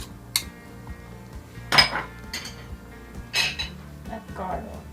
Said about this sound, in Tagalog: ilalagay na ang ating beans